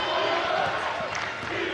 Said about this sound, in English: Gets a big round of applause for the bench and Hawk fans.